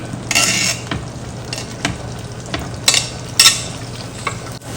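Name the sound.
broccoli sautéing in butter or oil in a pan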